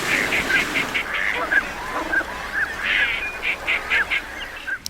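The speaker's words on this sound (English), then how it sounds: "As soon as the water starts coming in, birds start flying in." Flocks of migrating waterfowl on flooded farm fields along the Pacific Flyway, with repeated duck quacks and goose honks calling over a steady wash of many birds, fairly near and continuous.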